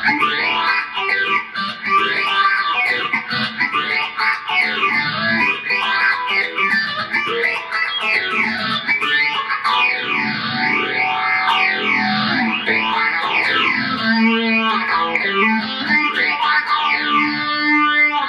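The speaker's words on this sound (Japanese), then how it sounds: "フェイザーとかかけてみましょうかね" A distorted Fender bass guitar line swirls through a sweeping phaser effect, its tone rising and falling in repeated whooshing arcs, loud and continuous with no talking.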